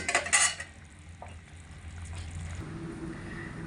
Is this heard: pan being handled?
yes